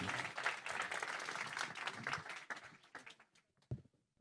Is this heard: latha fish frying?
no